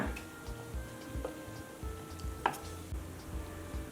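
A spoon works through a ragi flour mixture in a bowl to break up lumps, making soft, steady rhythmic knocks and scrapes about twice a second, close by, with a slightly louder clack near the end.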